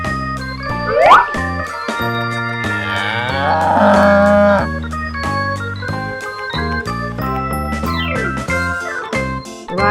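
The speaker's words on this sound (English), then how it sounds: "Cow." A cow moos several times in drawn-out calls, clear and prominent over a bouncy musical backing track.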